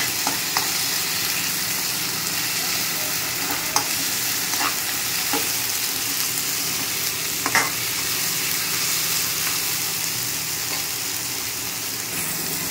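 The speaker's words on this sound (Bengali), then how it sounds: "একটা গোটা কাটা টমেটো দিয়ে দিলাম। ভালো করে কষানো হবে।" Continuous sizzling of a chopped tomato sautéing in a hot pan, with occasional scrapes and clicks of stirring, steady and close.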